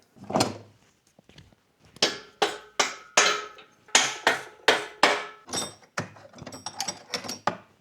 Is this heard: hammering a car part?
yes